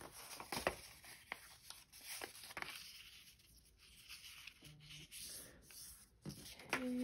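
Ink rubbed along fold marks on journal paper gives soft, scattered rubbing and scratching strokes. They are quiet and close, with a brief faint tone near the end.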